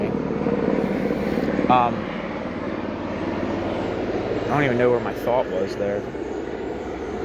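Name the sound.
helicopter flying overhead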